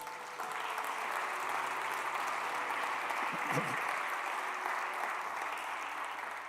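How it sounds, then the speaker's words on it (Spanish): A church congregation applauds during a sermon, a soft, continuous patter of many hands clapping at some distance, with a brief low thump partway through. "Aplaudimos a Jesús."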